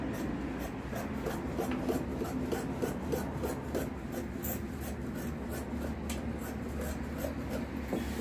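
Fabric being cut for a Patiala salwar gives a steady, close rasping and rubbing that runs without pause and with no talk.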